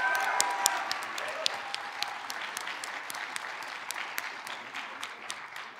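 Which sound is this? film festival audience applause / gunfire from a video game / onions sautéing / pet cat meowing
film festival audience applause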